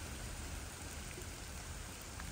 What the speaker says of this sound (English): especially because it's raining